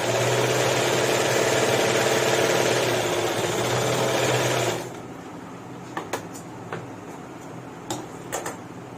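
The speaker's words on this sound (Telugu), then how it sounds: "ఇక్కడ నుంచి 6 inches తీసుకుంటున్నాం, తీసుకొని స్టిచ్ చేస్తాం." A sewing machine stitches the bottom of a dhoti, a loud, steady, close mechanical whirr that runs for about five seconds and then stops, followed by a few faint clicks and taps.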